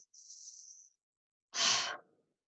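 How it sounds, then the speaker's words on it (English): A slow breathing cycle during a yoga session: a soft, airy inhale through the nose lasting almost a second, a brief pause, then a louder, breathy exhale through the mouth that trails off, close and alone. "take a deep inhale through your nose and an exhale through your mouth"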